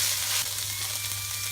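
Chicken pieces sizzle steadily in a hot pan of frying garlic, a close, continuous crackling hiss with no talking over it.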